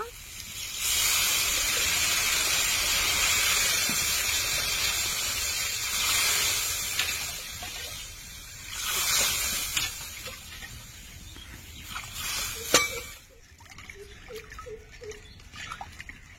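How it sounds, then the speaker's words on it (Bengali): Water poured onto sautéed potatoes in a hot pan gives a loud, steady hiss and sputter that later fades into softer bubbling and a few light pan knocks. "আলুগুলো কষানো হয়ে গেছে, এখন জল দিয়ে দেব।"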